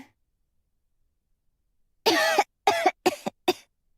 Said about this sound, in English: She hated the sound of her coughing!